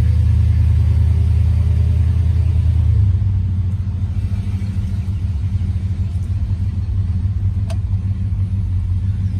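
A 1974 Bluesmobile car drives with a loud, steady low engine rumble that continues throughout, easing slightly after the first few seconds, with no talking.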